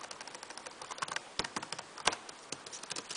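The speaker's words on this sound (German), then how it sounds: "manchmal reagieren die Tasten nicht richtig, wenn man nicht richtig durchdrückt und man hört es vielleicht, ne, es klappert so" Keys clatter on an Acer Aspire 5750G laptop keyboard, a quick irregular run of light plasticky taps and rattles, close and fairly quiet, with no talking.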